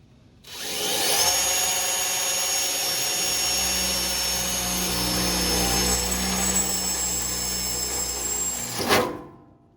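A power drill whines steadily for several seconds while drilling holes in a grill for stainless steel bolts, its pitch shifting slightly as it bites, then stops abruptly.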